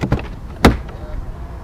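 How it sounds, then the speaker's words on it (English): A single sharp clunk of a Jaguar XJ car door latch releasing as the handle is pulled, followed by a brief rustle and quiet. "you can get in this car from any door just by pulling the handle"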